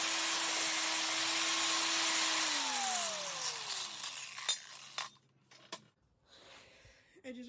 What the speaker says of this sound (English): angle grinder, we are now gonna grind that down